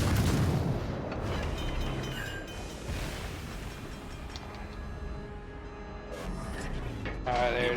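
Warship guns boom with HE shells in a ranked 1v1 match of World of Warships Legends, heavy low blasts at the start and near the end over a rumbling battle bed, with a voice speaking faintly beneath.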